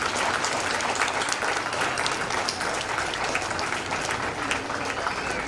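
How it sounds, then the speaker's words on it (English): A school crowd at a foundation day celebration claps for the teachers, a long, even stretch of dense applause from a large gathering, steady throughout. "can we have a clap for all of them?"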